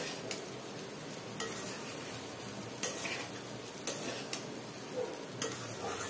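Coarse broken wheat (dalia) dry-frying in a pan, a steady close sizzle with scattered soft clicks and scrapes from stirring, and no voices.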